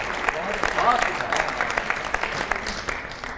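Applause from the audience at a Hindi poetry gathering (kavi sammelan), a lively burst of clapping with voices mixed in, continuing fairly evenly throughout.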